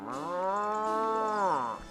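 A cow moos in The Legend of Zelda: Ocarina of Time, one long, loud, sustained bellow lasting about two seconds that sags in pitch at the end, with no talking over it.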